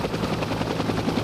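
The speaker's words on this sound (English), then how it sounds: "This helicopter heads toward Cherokee" A helicopter flies during the 1993 blizzard, its rapid rotor thumping steady and fairly loud through the brief moment, with no talk.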